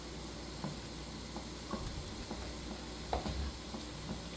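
Vegetables are stirred in a pan while cooking for a Kerala-style lunch: a soft, continuous sizzle with light spoon scrapes and taps at intervals, fairly quiet and close, no voices.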